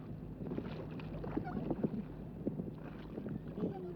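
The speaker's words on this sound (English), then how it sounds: "The man is pushing the boat through the water with the oars." Low rumbling water and wind noise with soft splashing strokes of oars moving a small boat, faint and continuous.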